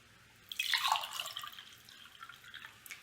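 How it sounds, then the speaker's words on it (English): Vinegar is poured over an egg in a container: a short, close splashing trickle swells quickly, then tapers into lighter drips over a few seconds. "and cover it up with vinegar"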